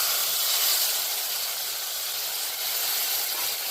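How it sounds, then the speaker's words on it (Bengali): Cumin seeds sizzle in hot oil as they are tempered for a vegetarian posto-and-pointed-gourd curry, a continuous close, bright hissing crackle that holds fairly steady throughout. "অল্প একটু জিরে ফোড়ন দিয়ে দিলাম"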